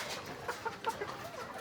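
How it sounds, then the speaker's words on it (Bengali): A hill-breed rooster on a farm gives a few short, quiet clucks against a faint background hum, with no talking. "এই একটা পাহাড়ি রাতা"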